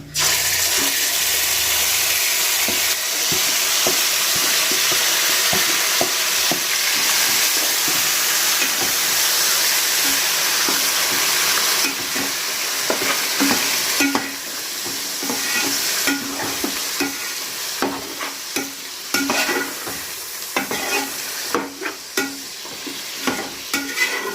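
Chicken pieces for a green chicken curry fry and get stirred in a pan, a loud continuous sizzle with frequent scraping stir strokes throughout, no talking.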